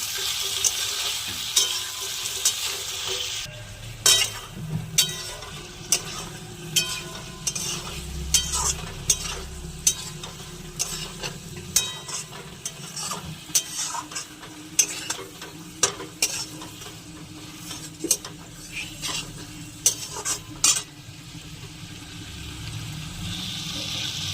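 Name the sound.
stirring frying food with salt, turmeric, chili, cumin, coriander powder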